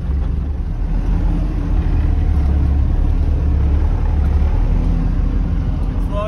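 A 4x4 vehicle climbs a Sahara sand dune, its engine a loud, steady low drone that swells slightly as it pushes uphill, with a voice talking over it.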